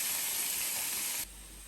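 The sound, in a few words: onions, capsicum and green chilies frying in butter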